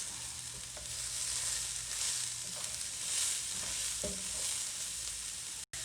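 Cauliflower rice seasoned with chili flakes and salt sizzles steadily in a pan as it is stirred, with a few light utensil knocks and scrapes over the even frying hiss. Close and moderately quiet, no speech.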